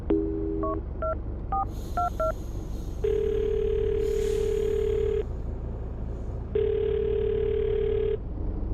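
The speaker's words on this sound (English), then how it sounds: "I'm going to dial her phone number right now" A phone being dialed, a quick series of touch-tone beeps followed by two long steady ringback tones with a pause between, clear and close.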